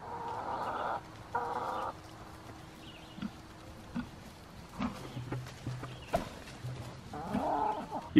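Chickens cluck intermittently while eating feed, with short calls scattered among quieter stretches and some louder bursts near the end.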